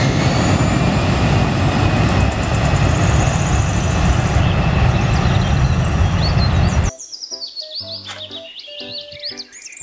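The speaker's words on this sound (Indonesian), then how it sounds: "Pesawat terbang." A toy airplane gives off a loud, steady engine roar for several seconds, then switches to a string of electronic chirps and beeping tones, with nobody talking.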